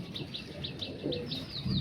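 Short, repeated high calls or chirps from Punjabi Malwai pigeons, about seven evenly spaced notes, moderately near, with low background rumble and a brief thump at the end.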